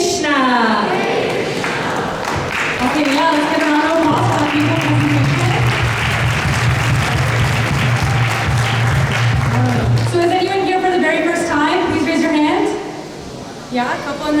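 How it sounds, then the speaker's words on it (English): Audience applause at a Sunday love feast at ISKCON Toronto, a sustained wash of clapping from a gathered crowd mixed with musical tones and voices, tapering off near the end. "let's get a round of applause for our people"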